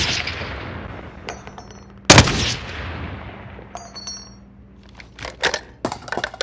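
Video game gunfire during a shootout with snipers on a rooftop, one loud sharp shot standing out, followed by several scattered lighter pops and clicks against a quiet background.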